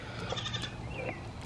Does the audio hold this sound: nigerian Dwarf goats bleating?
yes